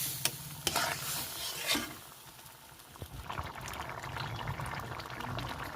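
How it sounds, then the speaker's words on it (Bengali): Mung dal with a fish head and spices is stirred in a pot, giving a few scraping clinks early on, then a low bubbling simmer with soft liquid movement and faint frying hiss, close by, with no talking. "এখন সুন্দরভাবে মাছ এবং মশলার সাথে এই ডালটি আমি মিশিয়ে দেব এবং ফুটতে সময় দেব।"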